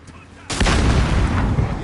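An explosion from a grenade in Call of Duty: Modern Warfare lands about halfway through as a sudden loud low boom, followed by a long roiling rumble with rattling debris.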